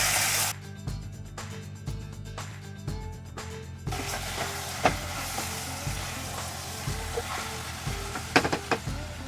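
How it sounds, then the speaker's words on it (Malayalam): Chicken pieces sizzling in hot oil for a chicken curry, a steady crackling fry broken by repeated scraping stirs and clunks against the pan, with no voices. "നമുക്കപ്പോൾ ചിക്കൻ പീസസ് ഇട്ട് കൊടുക്കാം. എന്നിട്ടൊന്ന് ഇളക്കി കൊടുക്കണം"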